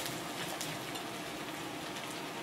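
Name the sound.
chicken pieces and mushrooms frying in a pan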